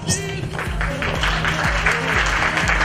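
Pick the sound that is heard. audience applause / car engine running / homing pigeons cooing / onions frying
audience applause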